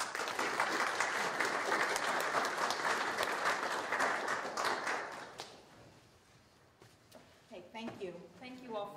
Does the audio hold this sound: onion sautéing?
no